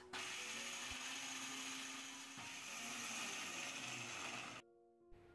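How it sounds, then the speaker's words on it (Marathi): A mixer grinder coarsely grinding roasted spices without water, a loud steady whirring drone with a grinding rattle that stops abruptly near the end, followed by a brief clunk. "यावर झाकण लावूयात आणि लगेचच पाणी न टाकता थोडंसं जाडसर दळून घेऊयात"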